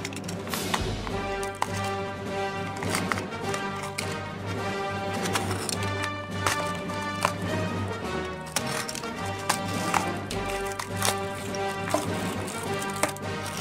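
A parcel holding Star Wars Darth Vader keychain flashlights from AliExpress is opened, with close crinkling plastic packaging, tearing and tapping handling sounds in a busy steady run of rustles, no talking.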